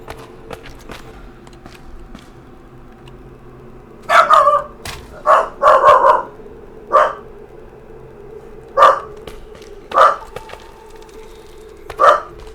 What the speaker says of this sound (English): Sorry, my dog's going nuts.